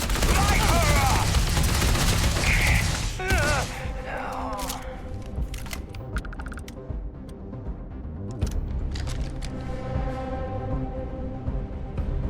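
A Starfield shootout opens with shouted battle cries and groans before bursts of gunfire crack out, loud and close at first. Later, scattered single shots and short volleys follow as the fight thins out.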